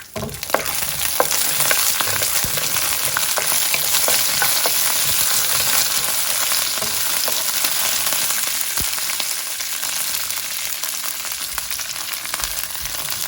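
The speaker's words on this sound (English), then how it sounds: "I'm going to add 1 teaspoon of black mustard seeds and 8 to 10 fresh curry leaves" Black mustard seeds and fresh curry leaves hit hot oil in a pan for a loud, continuous dense sizzle with scattered sharp crackles and pops throughout, close up and with no speech.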